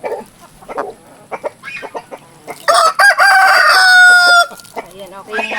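Chickens cluck in short bursts nearby, then a rooster lets out a loud, drawn-out crow before the clucking resumes.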